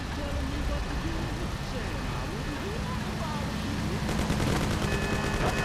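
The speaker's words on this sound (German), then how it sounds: "Komm, Pauli, schieß auf sie!" Bursts of gunfire during a car chase in the game Mafia, rapid rattling shots over a steady engine rumble, fairly loud, with voices talking over the action.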